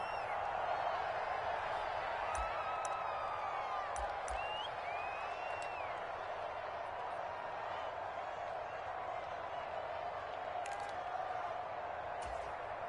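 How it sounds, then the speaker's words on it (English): Stadium crowd in a PS4 football video game, a steady wall of distant cheering and roaring that swells slightly, with a few whistles and brief thumps over it. "the crowd getting into it as we come up on a big 3rd down"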